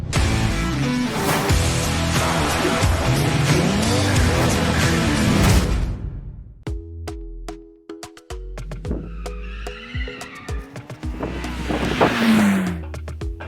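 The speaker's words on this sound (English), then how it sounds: "Today we're going drifting." A Mitsubishi Evo drifting on a track: a loud wash of engine and tire noise for several seconds, then a quieter stretch with squeals and engine revs, close and alone.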